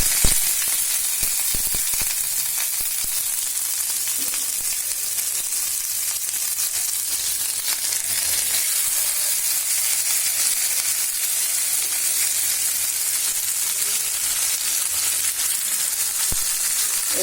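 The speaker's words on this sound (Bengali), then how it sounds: "আমি একটা একটা করে ভেজে নিব।" Koi fish frying one by one in hot oil in a pan, a loud, continuous, close sizzle and spatter holding steady throughout.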